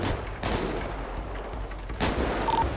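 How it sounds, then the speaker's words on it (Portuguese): Gunfire in a GTA 5 roleplay military border battle: two loud broadband bursts, the first near the start and another around two seconds in, over a continuous noisy game background. "Tá atirando os senhores aí, velho."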